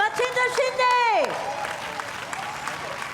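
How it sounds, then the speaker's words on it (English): An audience at a quiz show applauds a sand artist: a burst of clapping rises under a host's voice and a swooping musical sting, then carries on as scattered claps. "Can we have a round of applause for our sand artist, Machinder Shinde?"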